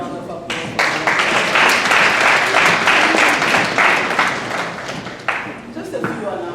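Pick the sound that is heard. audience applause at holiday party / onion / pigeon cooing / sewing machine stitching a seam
audience applause at holiday party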